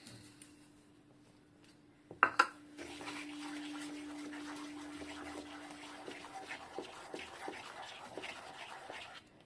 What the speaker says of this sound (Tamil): இதை இப்போ நம்ம கைவிடாமல் கலந்து விட்டுக்கிட்டே இருக்கணும்